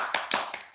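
Children clapping their hands in a few quick, loose bursts of claps, close and moderately loud, ragged rather than in unison.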